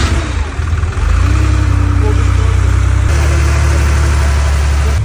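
A 1982 Porsche 911 Targa engine runs loud and close, a steady low rumble that swells when revved after the first second and then holds a strong, even drone.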